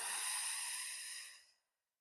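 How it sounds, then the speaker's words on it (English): A single heavy exhale during yoga practice, a close, breathy rush of air that holds steady and then fades out to silence. "And heavy breath out."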